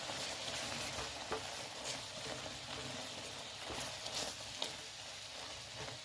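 A spiced date and tamarind mixture with Kashmiri red chili powder, salt and garam masala is stirred in a pan, giving a quiet, steady sizzle with soft scraping strokes.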